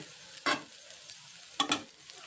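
Two brief scraping stirs of leftover chapati in a pan of tempering over a faint sizzle, spaced about a second apart, close by with no talking.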